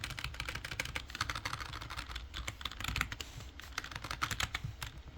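Rapid, steady keystrokes on a computer keyboard as a command is typed during a privilege-escalation exercise, close and continuous with no talk.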